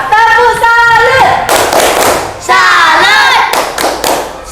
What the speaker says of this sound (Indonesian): Beri tepuk salut dulu untuk kelompok 2.